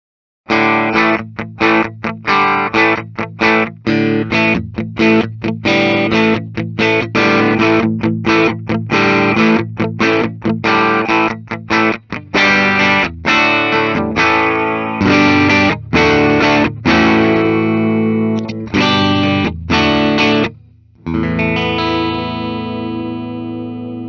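A 2022 Gibson '61 SG Faded with Maestro Vibrola played loud through an amp with distortion, choppy rhythmic chords and riffs, ending on a ringing sustained chord.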